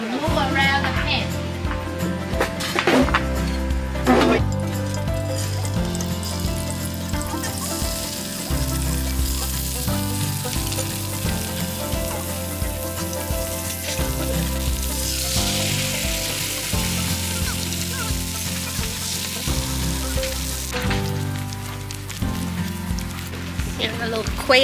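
A Vietnamese bánh xèo rice pancake filled with shrimp, pork and sprouts sizzles in a frying pan, giving a steady, close crackle that runs throughout alongside background music.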